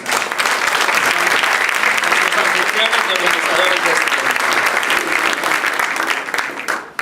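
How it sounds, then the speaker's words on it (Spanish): Dense, sustained applause from an audience at a formal anniversary ceremony of an electoral tribunal, filling the hall steadily for several seconds before tapering, while a voice speaks over it. "Un aplauso para ellos."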